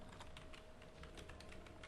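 Rapid keystrokes on a computer keyboard as a web address is typed, a steady run of light clicks close by over a faint background hum, with no voices.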